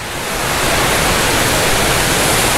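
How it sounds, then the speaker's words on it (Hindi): A waterfall heard from a spot standing above it at a tourist site, a steady dense roar of rushing water filling the whole clip, loud and unbroken with no voices. "मैं एक्चुअल में झरने के ऊपर खड़ा हुआ हूँ"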